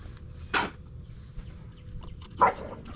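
A dog barks twice in a home garage while someone works on a 2005 Chevy, two sharp, separate barks spaced about two seconds apart, moderately close, with light clinking in between.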